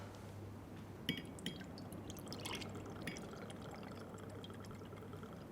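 Bourbon poured into a glass with ice: faint clinks and a soft trickle of liquid over a low steady hum, with no talking.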